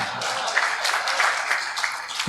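An audience at a comedy poetry recital claps in a steady wash of applause that continues throughout, moderately loud and fairly close.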